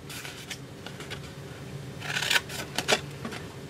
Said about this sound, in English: I'm just going to cut up to the score line